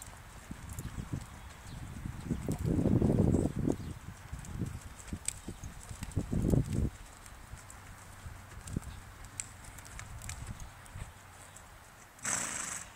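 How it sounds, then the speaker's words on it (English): An 8-year-old Tennessee walking horse gelding, about 14.2 hands, moving with soft, irregular hoof thuds, louder in bursts, over steady outdoor background noise with no talking. "8-year-old Tennessee walking horse"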